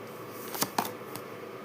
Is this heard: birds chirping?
no